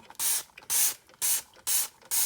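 Dawn Powerwash dish spray misted onto a dirty plate caked with dried egg yolk, five short sharp hissing bursts in an even rhythm, close and clear with no talk.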